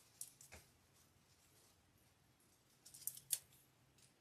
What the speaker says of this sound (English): Cut off my tags.